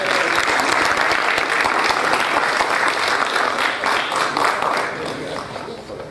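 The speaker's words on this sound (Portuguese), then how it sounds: "Uma salva de palmas para ele." Loud, sustained applause from a crowd at an official Brazilian heraldry and humanities award ceremony, dense steady clapping that fades slightly toward the end.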